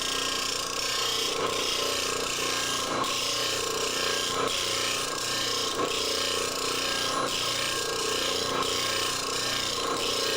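A bench grinder runs steadily as a plane blade is held tight to the tool rest for sharpening, giving a continuous close rasping, grinding hiss with slight periodic pulsing throughout.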